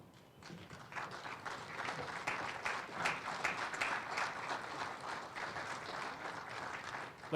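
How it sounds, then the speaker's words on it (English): A naval commissioning audience applauds the new second lieutenants and ensigns, the dense clapping building after a soft start and holding steady throughout. "please join me in one round of applause for our new second lieutenants and ensigns"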